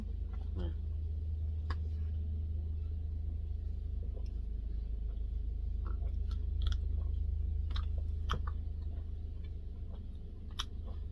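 Boiled Korean chestnuts, foraged from a forest in cold South Korean weather, are eaten with soft, faint chewing and bites over a steady low rumble, with someone talking at times.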